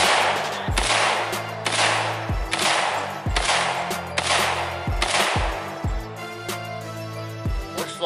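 An AK-50 V3 rifle is fired repeatedly, seven or eight sharp, loud cracks in a steady rhythm about every 0.6 seconds, each with a ringing tail, with no voice.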